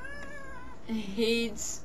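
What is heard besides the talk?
cat meowing while being held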